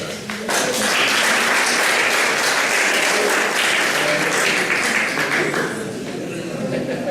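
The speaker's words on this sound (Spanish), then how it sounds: "Espero que le demos un buen aplauso." An audience at a national congress gives sustained, dense applause to welcome the next speaker, steady and full for several seconds before tapering slightly near the end, with some voices mixed in.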